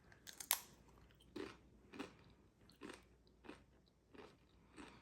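Doritos Late Night Sizzlin' Cheese Burger tortilla chips being eaten up close: a sharp first bite followed by about six evenly spaced crunchy chews, quiet and distinct against near silence.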